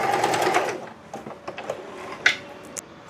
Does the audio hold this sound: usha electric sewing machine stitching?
yes